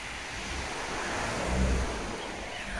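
Waves wash onto a clean beach shore on a mild day, a soft steady surf with a gentle swell peaking midway, heard faintly at a distance along with light wind and no talking.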